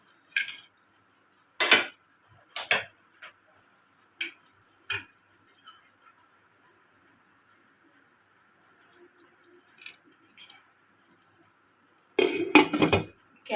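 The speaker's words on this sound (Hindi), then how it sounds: "ऐसी कोई छोटी स्टील की छोटा स्टील का बर्तन लेके हमने इसके अंदर रखना है। फिर मैं कोयले को इसके अंदर रख के" Sharp metallic clinks and taps as charcoal is placed into a small steel bowl set inside a karahi of smoked chicken, scattered knocks separated by quiet pauses, with a louder clatter at the end.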